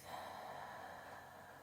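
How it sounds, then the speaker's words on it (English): A single deep, slow breath drawn close to the microphone during an EFT tapping session, a soft airy rush that fades gradually, quiet and alone. "Then take a deep breath."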